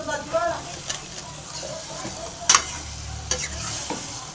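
Chicken pieces with turmeric are stirred and fried in a pan for chicken curry, with a soft sizzle under repeated scraping strokes of a spoon and a couple of sharper clinks against the metal.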